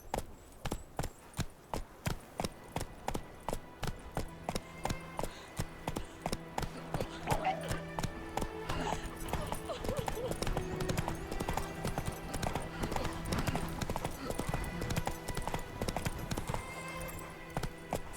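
A horse gallops in The Witcher 3, its hooves pounding in a quick, steady clip-clop rhythm that runs on without a break, with a faint voice urging it on.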